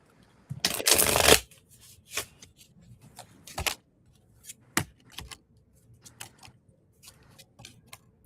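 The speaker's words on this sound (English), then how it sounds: "Okay, I'm shuffling the cards." A tarot deck is riffled in a loud, dense burst near the start, followed by scattered soft taps and clicks of cards being handled in a quiet room.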